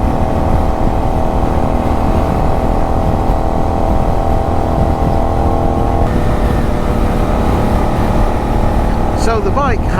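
Benelli 752S motorcycle ridden at speed, a loud continuous engine drone mixed with heavy wind rush, with a rider's voice briefly audible near the end.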